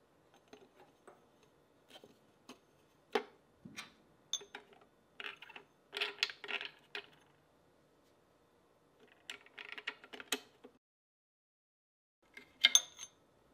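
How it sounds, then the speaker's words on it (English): Small metallic clicks, taps and scrapes of an Allen key tightening screws on the pulley cover of a Cobra 8810 post sewing machine, scattered quiet bursts with pauses in a silent room. "Line the cover up and use the provided Allen screws to tighten the screw into place."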